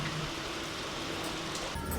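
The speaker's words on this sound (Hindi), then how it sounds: "देखो आपको आवाज़ आ रही होगी बारिश की।" Steady rain hisses outside as a dense, even wash of noise, with a slight rise in loudness near the end.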